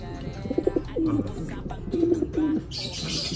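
Pigeons kept in a loft coo nearby in several short, soft, throaty phrases, with faint background noise and a brief rustle at the end.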